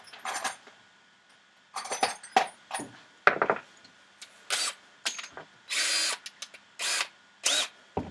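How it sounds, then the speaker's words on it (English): A handheld power drill whirs in short, loud bursts at close range, starting and stopping repeatedly with brief pauses and small clinks between runs. "Work out what hole I need to drill."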